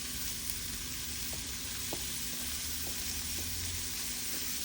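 Wild Digdi greens added to cooked tomato in a pan, a steady, dense sizzle that stays even throughout, with a few faint soft clicks on top.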